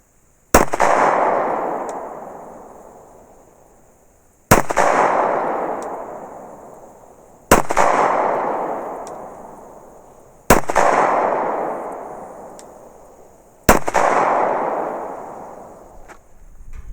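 Five sharp, loud 9mm pistol shots using Hornady Custom 124 grain ammunition, fired one at a time a few seconds apart during penetration testing, each with a long, fading echo.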